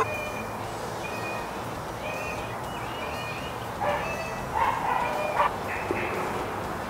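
A dog next door barks and yips several times in an irregular cluster, set back at moderate distance over a steady outdoor background hum, with no one speaking.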